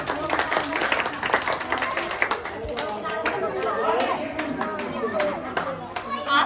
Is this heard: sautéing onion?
no